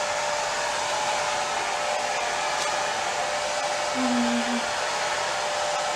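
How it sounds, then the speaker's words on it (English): A steady, loud hair dryer blows continuously throughout, a constant whooshing hum with no talking. "a little more hairdryer"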